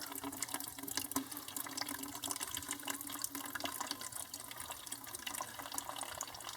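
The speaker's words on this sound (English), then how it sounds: "Get the excess water out." Excess water is poured out of a small container of planted cactus seeds, giving a steady close trickle and splash that continues without a break, with no talking.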